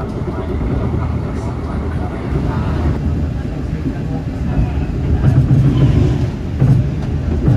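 An Argo Semeru express train passes on the railway, heard from inside an economy stainless-steel Bogowonto coach: a steady low rumble and rail roar that swells louder toward the end as the trains cross.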